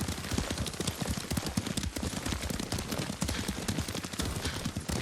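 Rapid, steady hoofbeats of a galloping horse in the video game Ghost of Tsushima, close and loud, with a crisp rhythmic clatter throughout.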